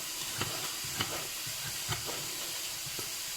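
Soft, steady sizzling hiss of vegetables frying in a pan, with a few light taps and clinks of a utensil stirring.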